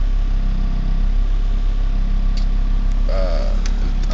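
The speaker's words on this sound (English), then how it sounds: "Just a little soundbite of the engine" A 1996 Honda Civic EK hatchback with a GSR engine swap idles steadily and close by, a continuous low hum with a faint higher whine drifting in near the end.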